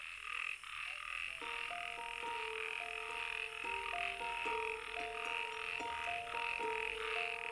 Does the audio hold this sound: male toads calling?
yes